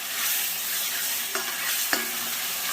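A thick paste for egg curry sizzles steadily in a hot frying pan, with a couple of soft scraping stirs breaking through the constant frying hiss.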